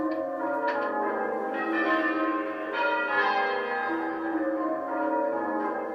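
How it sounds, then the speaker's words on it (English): Church bells peal from the tower of St Mary's Church, Bridport, Dorset, overlapping strikes ringing out in a steady, resonant cascade with no voices. "The bells have been ringing out from the tower of St Mary's Church"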